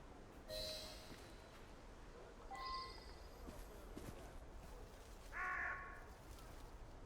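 Within the video game Assassin's Creed Syndicate, a crow gives three separate harsh caws spaced a couple of seconds apart, fairly faint over a low background hum.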